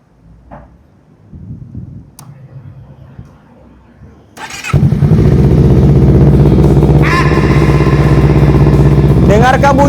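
Some quiet clicks and fumbling, then a motorcycle engine starts and settles into a loud, steady idle that continues close by.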